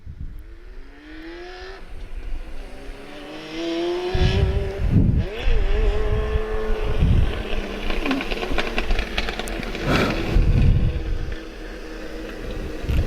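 Legends race cars circle a track, engines rising and falling in pitch as they pass at varying distances, with several loud close passes standing out over a continuous drone.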